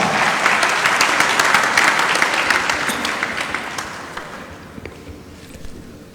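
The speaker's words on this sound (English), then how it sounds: "Would you please give him a warm round of applause?" Applause from a conference audience, a dense, fairly loud burst of clapping that gradually fades away over several seconds, with scattered last claps at the end.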